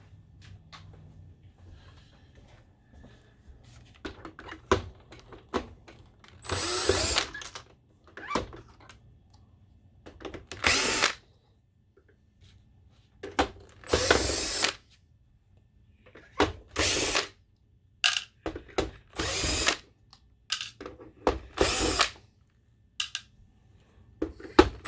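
An electric screwdriver backs screws out of the underside of an Epson 84+ LCD projector in a series of short, loud whirring bursts separated by quiet pauses and small handling clicks.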